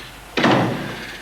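A door swings shut with a single loud slam, followed by a brief rumbling decay in a quiet room.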